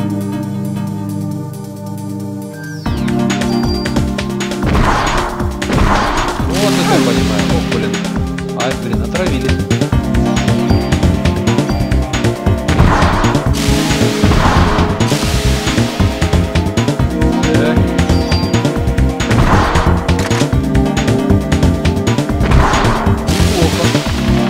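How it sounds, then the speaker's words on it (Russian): Grenade launcher shots in the video game Parasite Eve, a series of loud heavy blasts and crashing impacts repeating every few seconds over busy game music. "В общем, у нас теперь гранатомет есть."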